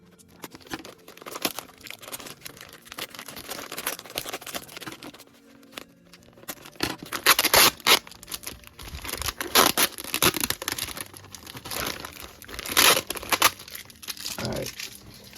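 Tape being torn and peeled off a cardboard box holding an XSmart Scrapturtle FNaF Scraptrap plush, with repeated crinkling rips and crunchy bursts close to the mic, growing louder and denser toward the end.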